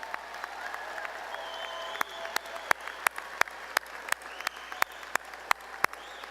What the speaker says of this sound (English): Will the spouses, children, and grandchildren of our candidates please stand and receive our applause?